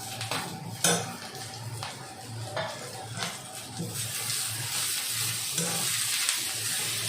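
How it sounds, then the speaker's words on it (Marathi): Dry coconut pieces being stirred with onions in a pan, giving a steady sizzle of frying under scraping and clinking of a spoon against the pan, with a few sharper knocks. "आता हे मी सुक्कं खोबरं जरा टाकते याच्यात"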